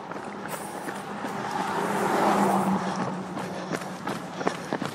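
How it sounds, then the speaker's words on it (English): A road vehicle passes nearby during a rural run, swelling to a broad whoosh at its peak and fading away, with light footsteps and small knocks around it. "I forgot about the traffic noise."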